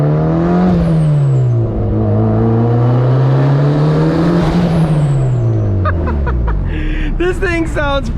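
A 400 hp built turbocharged Mazda Miata engine driving on the street, loud and close, its revs rising and falling steadily before sharper blips near the end, with someone talking over it.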